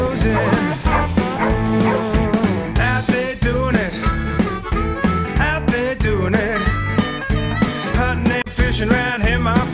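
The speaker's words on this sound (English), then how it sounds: "hearing the dogs closing." Dense, rhythmic bursts of dog barking and yipping, loud and continuous, several dogs overlapping without pause.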